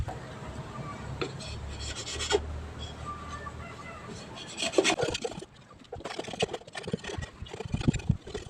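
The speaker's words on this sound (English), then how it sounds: "I'm going to need both my hands to shave off all the waste material from the cup." A knife shaves waste material off a handmade bamboo cup in rough, scraping strokes that come in irregular bursts, close and moderately loud, with small knocks between.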